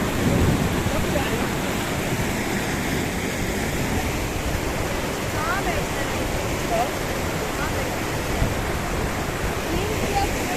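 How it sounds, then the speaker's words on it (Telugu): A fast, high-running mountain stream near Manali rushes in a dense, unbroken roar of water, loud and close throughout the whole stretch. "అందరు బాగా చూడండి వాటర్ ఎలా ఉందో, ఈ స్ట్రీమ్ చాలా హై"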